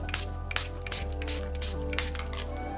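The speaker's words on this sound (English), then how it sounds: "so I'm going to give it a good spray." Shimmer paint mists from a handheld spray bottle in short hissing bursts, close and fairly soft, over a low steady background hum.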